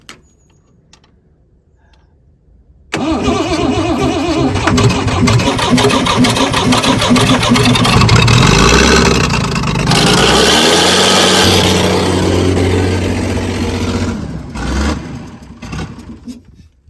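An engine on a vehicle abandoned for 18 years catches after a quiet pause and then roars loud and close, revved up and down under throttle for over ten seconds before easing back and fading near the end.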